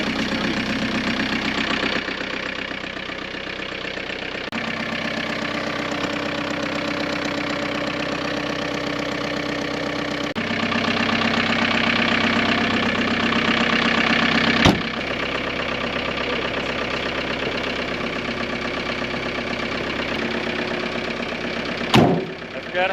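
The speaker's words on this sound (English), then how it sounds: "I forgot how much diesels stink, especially in the winter when they're warming up." A turbo diesel Volkswagen Vanagon Westfalia engine idles steadily while warming up on a winter day, a loud continuous diesel rumble with a faint knocking clatter and a couple of sharp clicks.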